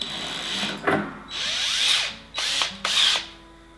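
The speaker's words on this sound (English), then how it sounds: "It's one of those self-ejecting drills" A power drill runs in about four short bursts, whirring up and winding down between them, close and fairly loud, during the build of a water heater rocket stove and oven.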